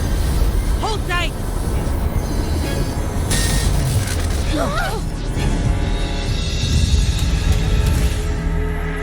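A train rumbles along continuously in a video game, with a steady low roar and clattering throughout, voices calling out over it partway through.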